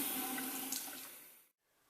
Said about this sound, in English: fill the water jug up to the line with water